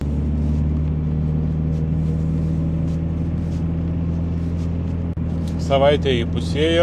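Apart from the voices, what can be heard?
Dodge Challenger car driving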